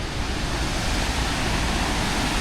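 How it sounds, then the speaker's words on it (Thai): A steady, dense roar of rushing water from Haew Suwat Waterfall in Khao Yai National Park in December fills the clip without pause, loud and constant. "เสียงน้ำตกดังลั่นเลยครับ"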